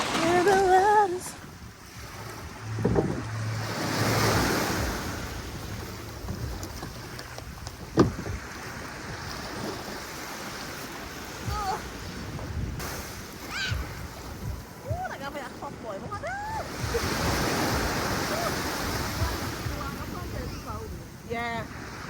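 Ocean waves washing onto a beach in St Vincent, with surf swells rising and falling under strong wind buffeting the microphone, while people talk nearby throughout.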